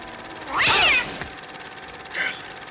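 A pet cat named Church gives a drawn-out, wavering meow followed by a shorter, fainter meow, close by with no talk over them.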